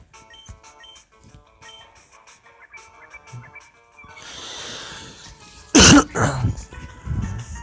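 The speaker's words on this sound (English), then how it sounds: "Hard cough right there." A single hard, loud cough bursts out near the mic after quieter background noise, followed by a short rough exhale.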